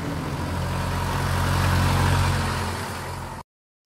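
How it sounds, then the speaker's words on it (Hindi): A car passes as a sound effect: the engine's broad roar swells to a peak and eases away, then cuts off abruptly into silence. "ये भी थोड़ा सा पासिंग वाला इफेक्ट है कि गाड़ी जिसमें पास हो रही है"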